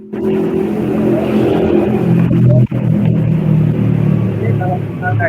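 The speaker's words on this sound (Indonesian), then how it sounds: "Suaranya Pak, motornya itu Pak." A loud engine rumbles steadily nearby, revving and droning throughout with a brief dip midway, like a motorbike going past.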